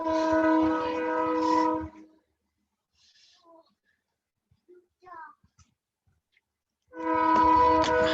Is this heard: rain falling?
no